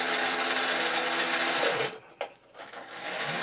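A small electric motor in a Lucky Crane arcade toy whirs steadily for about two seconds, then cuts off abruptly, followed by a brief click and a quiet gap before a softer hum resumes.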